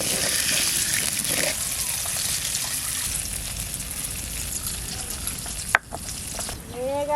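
Ground cumin and coriander paste with chili and ginger sizzles steadily in a pan for a Bengali chital fish curry, a continuous close frying hiss, then water is poured in near the end, adding a sharp splash and bubbling.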